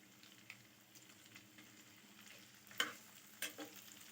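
Onion and chicken pieces frying for chicken shawarma, a faint, steady sizzle with soft stirring scrapes and a couple of louder clinks near the end, no voices.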